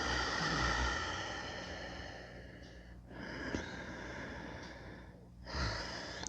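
Slow Ujjayi breathing during a chair yoga session, with soft, hushed, throaty breaths drawn in and out close up over several unhurried cycles, quiet and without any speech.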